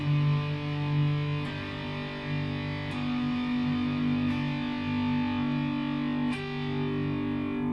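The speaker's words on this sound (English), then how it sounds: "When you get down to the bottom E here, you're going to play a G bar chord." Distorted electric guitar G bar chords strummed and sustained, changing every second or so with a buzzing, gritty tone.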